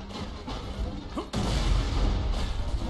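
A grenade detonates in Borderlands 2 with a sudden heavy crash after a short lead-in of game noise, followed by a loud, dense rumble that fills the rest of the moment.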